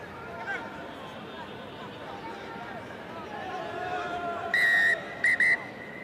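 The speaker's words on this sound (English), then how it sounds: "there is the whistle blown" A referee's whistle at a Georgia versus Poland rugby sevens match in England sounds as one long shrill blast followed by two quick short pips, loud over crowd noise and commentary.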